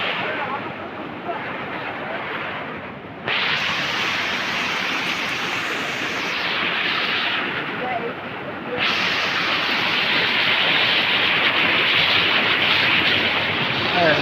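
Bada Ghagara waterfall in Keonjhar: a loud, steady broadband roar of rushing, falling water that fills the scene continuously, swelling louder partway through with no pauses.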